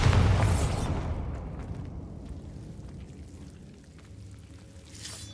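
A Bombarda blast spell from a Hogwarts-era magic game bursts loudly at the start, then trails into a crackling, rumbling decay that fades over several seconds, with a faint flare of noise near the end.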